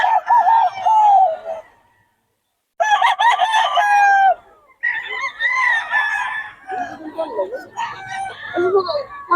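A game fowl rooster crows several times in loud, close, drawn-out calls separated by short pauses, followed by rapid clucking and squawks from nearby fowl, with no talking.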